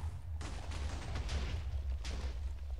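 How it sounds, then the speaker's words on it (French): Torpedo blast in Minecraft, a game explosion after the projectile bores through a wall: a sudden loud boom followed by dense crackling, rumbling detonations that keep roaring for a few seconds with no voices. "Donc ça fait une belle explosion"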